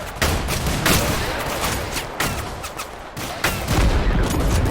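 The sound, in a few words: sniper rifle gunfire in a modern war FPS video game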